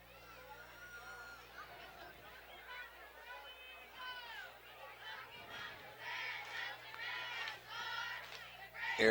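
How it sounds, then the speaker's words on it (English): Young women cheering at a high school football game, rhythmic group chants and shouts rising in volume over the crowd's chatter, with a voice talking nearby. "There's the young ladies cheering with their counterpart."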